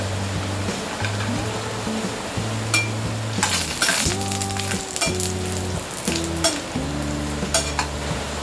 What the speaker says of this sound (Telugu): ఒక 2 minutes ఫ్రై చేస్తే ఈ డ్రై కోకోనట్ పీసెస్ గోల్డెన్ కలర్గా ఫ్రై అయిపోయి గ్యాస్ ఆఫ్ చేసేద్దాం